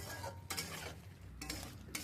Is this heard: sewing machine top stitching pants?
no